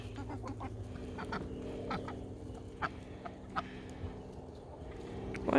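Backyard chickens cluck softly while a duck joins in, a low continuous murmur of fowl calls with a few sharper clucks, fairly faint and close by.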